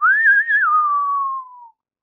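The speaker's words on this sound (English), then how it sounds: "I can normally whistle" A person whistles a single clear sustained note that rises slightly, wavers, then glides gently downward and fades out after under two seconds, close and alone with no talk.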